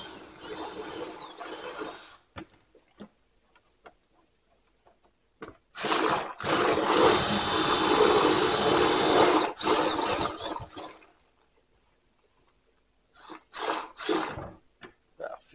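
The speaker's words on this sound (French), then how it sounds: "Et on commence à malaxer notre sirop." A kitchen mixing machine kneads syrup in several bursts, a loud whirring motor drone running for a few seconds at a time between quiet pauses, with short starts and stops near the end.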